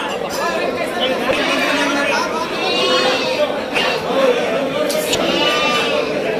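Three-month-old Bandur sheep lambs bleat in a flock, many overlapping wavering calls close by, with people chattering underneath.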